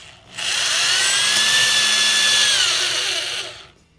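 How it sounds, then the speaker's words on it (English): A power drill bores a hole into a wooden birdhouse, with one steady, loud, high-pitched whine lasting about three seconds, slightly dropping in pitch near the end before it stops. "Now you are going to drill a hole 3/4 of an inch from the back of the birdhouse."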